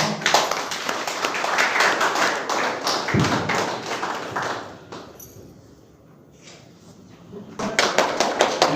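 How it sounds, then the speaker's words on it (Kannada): A crowd at a Swami Vivekananda Jayanti celebration breaks into loud, dense clapping that thins out and nearly stops midway, then surges again near the end. "ಜೋರಾದ ಚಪ್ಪಾಳೆ"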